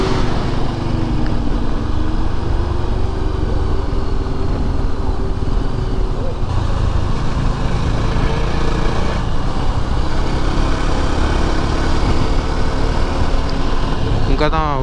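A Yezdi Adventure motorcycle engine is ridden in second gear along a forest road, a steady droning hum with wind rush running throughout, while a rider talks over it.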